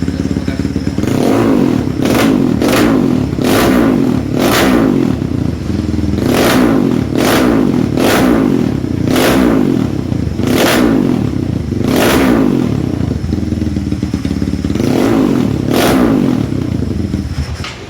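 Close-up revving of a bored-up, dual-injector Honda CRF 300 motorcycle engine: a loud idle broken by about a dozen sharp throttle blips in a row, each rising and falling quickly, with no voices.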